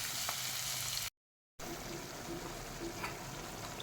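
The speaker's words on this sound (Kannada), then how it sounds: "ಟೊಮೊಟೊವನ್ನು ಹಾಕಿ ಅದನ್ನು ಸಹ ಹುರಿದುಕೊಳ್ಳಿ." Chopped onion and tomato fry in a pan for a cabbage and lentil sambar, a steady close sizzle that cuts out briefly to silence partway through, then resumes.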